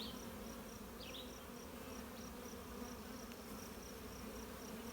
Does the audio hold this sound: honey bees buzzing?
yes